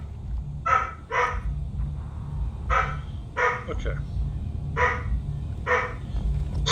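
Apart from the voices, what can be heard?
dog barking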